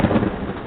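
A dense, loud wash of rain and rolling thunder plays as a short sound effect, a continuous roar with no voices.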